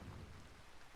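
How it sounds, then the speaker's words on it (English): Rain falling in the survival game Vintage Story, a steady soft wash of patter with a deeper low rumble near the start, continuous and unbroken for the whole second with no voices. "It's raining."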